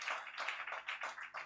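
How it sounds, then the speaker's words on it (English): An audience at the Make In Nigeria 2025 event claps for a panelist coming forward. It is a short burst of soft, fairly distant, evenly spaced claps. "Let's put our hands together for him, please, as he comes forward."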